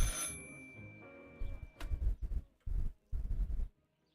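A telephone rings briefly at the start in a photorealistic psychological horror video game, with high bell-like tones, followed by several bursts of heavier low sound, with no talking.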